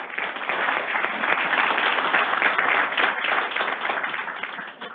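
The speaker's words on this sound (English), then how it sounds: "Let's give him a round of applause." An audience applauds at an employee recognition ceremony, a steady, dense round of clapping that holds loud and even for about five seconds before easing slightly at the end.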